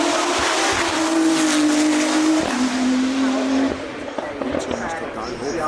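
A supercar with a Nissan R35 3.8-litre engine runs the Goodwood Festival of Speed hillclimb, a loud sustained engine drone that shifts pitch and then eases off, under a commentator talking over a PA.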